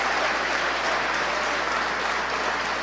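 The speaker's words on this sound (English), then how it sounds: "You can hear the applause in the background from the SpaceX team gathered around the Mission Control" Sustained applause from the SpaceX team in Mission Control during a launch of Iridium satellites, dense and steady clapping with no pauses.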